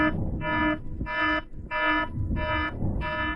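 An electronic alarm sounds in loud, evenly spaced pulses, six buzzing beeps with short gaps between them, steady and insistent, with no voices.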